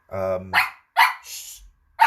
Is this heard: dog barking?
yes